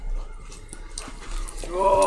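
A puppy whines and whimpers close by, with soft snuffling at first and a higher, rising whine near the end, while a person talks over it.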